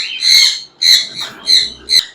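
Pair of common white cockatiels in a pet shop letting out sharp, shrill screeching calls, four or five close bursts with short gaps between them.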